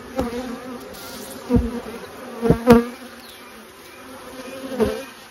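Honey bees buzz steadily around a brood frame lifted from the hive as the queen is held out, a close continuous hum with several louder swells as bees fly past.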